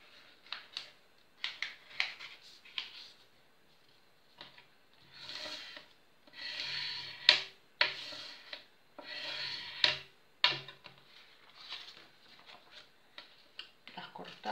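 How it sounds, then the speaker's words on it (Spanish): Paper sheets being cut with scissors and torn by hand for a junk journal, a series of close, dry rustling rips and snips in irregular bursts, quiet overall with no talking. "las cortamos. Así rasgaditas y ahora volvemos a plegar a la mitad."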